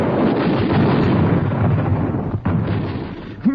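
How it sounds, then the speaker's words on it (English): A wartime machine gun fires in action in an old radio-drama effect: a dense, loud, continuous roar of rapid bursts fills the scene, with one brief break before it resumes. "showing the men in the field just how this machine gun operates in action"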